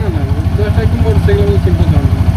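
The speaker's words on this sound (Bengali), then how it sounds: "এখন কিন্তু স্টার্ট আছে আপনারা সাউন্ডও শুনতে পাচ্ছেন" A small Mishuk auto-rickshaw engine idles with a steady, pulsing low chug nearby while a person talks over it.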